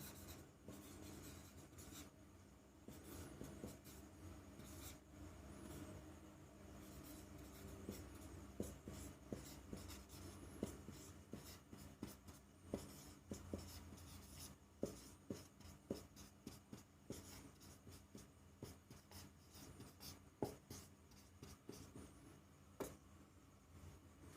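Handwriting by pen or marker, a long run of scratchy strokes and taps close by, quiet and irregular with brief pauses, without any speech.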